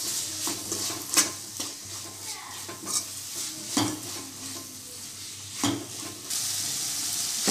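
Tomatoes sautéing in a pan for chicken gravy, with a steady sizzle broken by repeated sharp scrapes and clinks of a spoon stirring against the metal, close and fairly loud, no talking.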